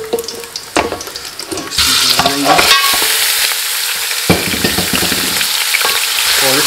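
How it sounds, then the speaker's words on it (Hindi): Mutton pieces frying and being stirred in their own melted fat for a tribal-style white curry: loud, continuous sizzling with frequent scraping and clattering of a ladle against the pot, close up. "गोश्त को इसी में हमने फ्राई करना है।"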